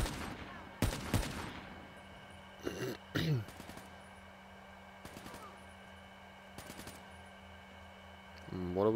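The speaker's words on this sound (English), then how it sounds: "What are we shooting at here?" Machine gun fire in the video game Call of Duty Black Ops 3 comes in short, sharp bursts, several volleys spaced across a quiet stretch, fairly close and punchy.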